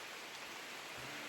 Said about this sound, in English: the rain all coming towards you